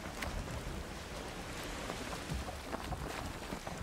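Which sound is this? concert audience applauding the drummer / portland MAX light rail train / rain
rain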